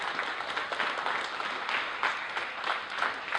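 An audience at a poetry slam claps for a judge being introduced, producing dense, steady applause that carries through the whole stretch with no voices on top.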